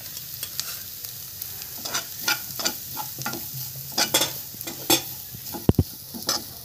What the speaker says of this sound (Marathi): त्याच्यामध्ये जो खोबऱ्याचा चुरा करून ठेवलाय तो सगळा घालून तुपावर भाजून घेऊया